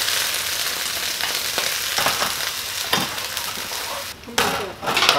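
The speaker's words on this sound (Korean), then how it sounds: "살짝만 한번 볶으다가 술 조금만 넣고 다음에 우유를 넣습니다" Bok choy stir-fries in a hot wok with a splash of rice wine and milk, giving a continuous loud sizzle broken by scraping stirs and a brief dip as liquid goes in.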